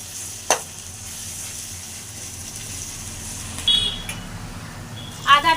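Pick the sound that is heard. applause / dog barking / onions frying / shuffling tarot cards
onions frying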